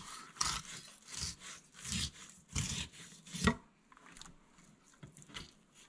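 A knife saws through a thick-skinned walleye down to the spine, six or so rhythmic rasping strokes, close and crisp, ending in one sharper crunching cut before quieter scraping.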